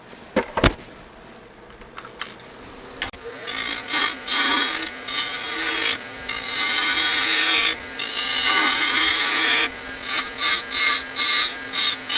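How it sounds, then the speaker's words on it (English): A freshly sharpened spindle gouge shaves a small wooden hollowform spinning on a lathe, with close, loud scraping cuts in sustained passes broken by short pauses and a few early knocks. "I put a fresh edge on my spindle gouge, and now it's time to give this piece some shape"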